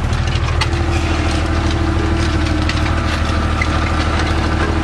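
Tractor engine pulling in third gear at about 1600 rpm during post-harvest spring-tine cultivation, a steady loud low drone with a fine even throb, running continuously without a break.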